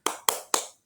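A classroom spirit clap: three sharp, evenly spaced hand claps in quick succession, close and crisp, with a fourth just starting at the end.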